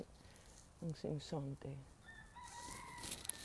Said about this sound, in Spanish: los gallos,